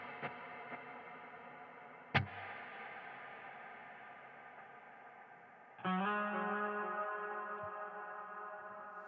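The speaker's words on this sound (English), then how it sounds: "Our next one's going to be our delay." Electric guitar notes run through the delay effect of a Neural DSP Nano Cortex amp modeler. Sharp picked attacks trail off into long, shimmering repeats that hang and slowly fade, with a louder sustained chord near the end.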